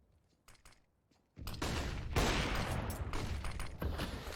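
Gunfire erupts in a CS:GO esports match, a few faint clicks first, then a sudden sustained loud burst of overlapping shots and rattling that runs to the end without pause.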